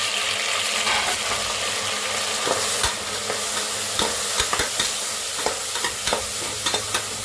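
Tomatoes sauté with mustard seeds in a hot pan, giving a steady loud sizzle broken by frequent scraping, clicking stirs from a utensil against the pan, with no talking.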